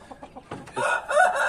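Chickens and a rooster in a backyard coop, with a few soft clucks at first, then louder, busier squawking and a crowing rise, all close by with no talk.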